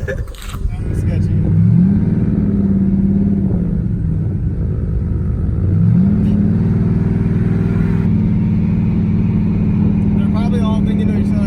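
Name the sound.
car revving and driving on the street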